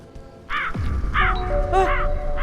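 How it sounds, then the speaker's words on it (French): A crow caws in a horror video game set at a cemetery cathedral at night, several harsh calls at close range, mixed with a ringing chime-like tone over a low rumbling background. "Oh, le corbeau, il m'a fait peur."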